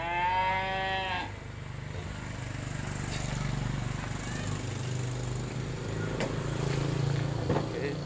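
A cow moos loudly and close in a long drawn call at the start, followed by outdoor farm noise with people talking and livestock shuffling in the background during delivery of cattle.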